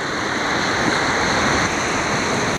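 A river rapid wave on the Cartecay River roars as a loud, steady rush of churning whitewater that fills the whole moment without pause, with no voices.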